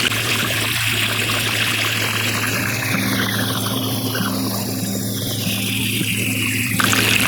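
Water rushes steadily through a gold-panning sluice box, a dense continuous flowing and trickling wash with a low mechanical hum beneath, close and constant throughout with no talk.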